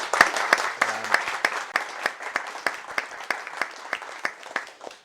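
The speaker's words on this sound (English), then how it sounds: "can we just have a round of applause for everyone who did a 60-second pitch?" A room of attendees at a hybrid business event applauds sixty-second pitches, a steady round of clapping with sharp individual claps standing out, moderately loud and sustained for several seconds, with brief talk underneath.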